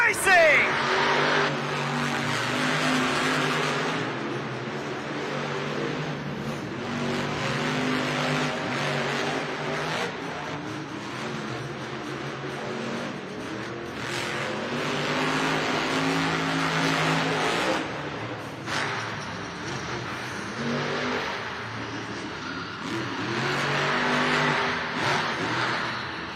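Monster trucks racing at a Monster Jam event in London, engines roaring and revving loudly with rising and falling surges across the run, under an announcer's voice and a crowd-filled arena ambience.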